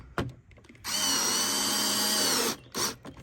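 A power drill drives an included screw into a pilot hole while outdoor permanent lights are being mounted, giving one close, steady whir of under two seconds between soft handling noises.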